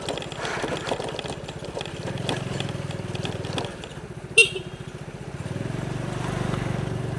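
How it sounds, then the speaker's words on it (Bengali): An old motorcycle rides along a rural road near Kurarbazar in Sylhet, its engine putting out a steady, close chugging drone throughout, with a brief sharp horn toot partway through. "রাস্তার রাজা মোটরসাইকেল, বাট মোটরসাইকেলটি সেকালের"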